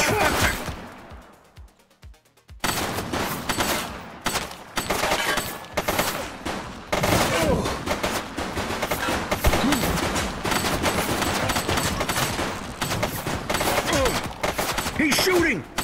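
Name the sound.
gunfire in the video game The Precinct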